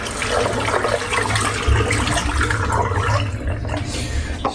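Water runs steadily from a tap to rinse shaving soap off, a continuous close splashing wash that stays even and loud throughout with no talking.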